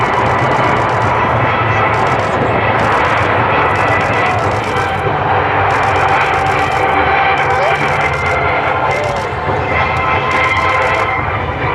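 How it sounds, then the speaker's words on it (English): A loud, continuous roar from a KC-130J Super Hercules turboprop fills the scene, a sustained engine drone with a rhythmic pulsing hiss as the propellers are reversed to slow the plane after touchdown at an air show. "After touchdown, the pilots will reverse the blades, turning them into pushers to help slow the airplane down"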